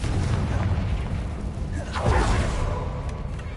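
Confringo fire spell in Hogwarts Legacy, a deep booming explosion with a whooshing burst over a loud, rumbling game soundscape, lasting a few seconds.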